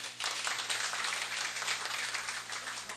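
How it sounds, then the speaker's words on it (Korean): Welcoming applause at a district office monthly meeting for a newly transferred section chief, a brief burst of many hands clapping together, fairly soft and steady with a low hum underneath. "환영의 박수 부탁드리겠습니다"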